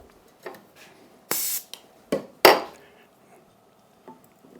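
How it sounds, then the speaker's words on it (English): Short bursts of accelerant sprayed from a can onto a wooden chair leg, two loud hissing blasts close by with a few small clinks and knocks between them, no talking. "I'll spray the accelerant"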